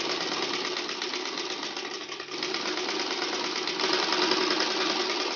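A sewing machine stitches a pocket onto a panjabi, a steady mechanical whir running close and continuous, lifting slightly in pace toward the end, with no talk over it.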